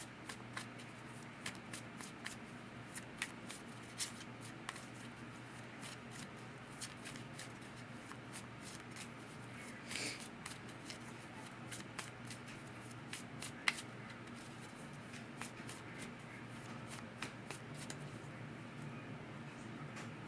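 Yin yang oracle cards shuffled steadily by hand, a continuous soft riffling with small crisp flicks throughout, close and quiet with no talk.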